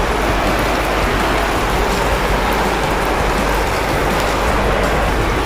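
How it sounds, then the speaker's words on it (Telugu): Steady rain falls in Telangana, a dense, continuous hiss that holds at an even loudness for the whole stretch, with no voices over it. "తెలంగాణలో వర్షం ఎలా పడుతుందో చూడండి."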